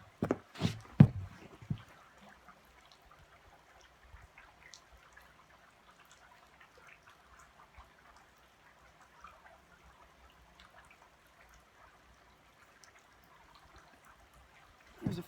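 Freshly scaled trout rinsed under water outdoors, a soft trickle and dripping that runs faint and steady after a brief louder splash at the start, with no talking over it.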